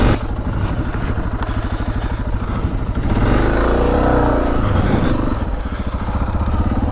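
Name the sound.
DR650 motorcycle engine revving during trail wheelies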